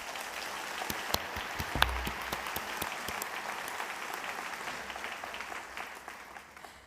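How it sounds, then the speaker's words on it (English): Graduation audience applauding the 2021 college academy graduates, a dense steady round of clapping from a large indoor crowd that gradually tapers off, with a brief thump near the start. "Please give them another round of applause."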